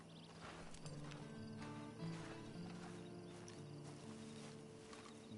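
Steady clip-clop of horse hooves in Red Dead Redemption 2 Online plods along under a continuous low musical drone, with faint ambient noise throughout.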